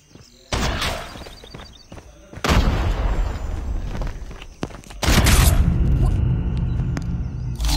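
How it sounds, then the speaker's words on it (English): In a shooter video game, a frag grenade blows with heavy booming bursts, close and loud, mixed with gunfire and scuffling movement, with a faint voice now and then. "Frag out!"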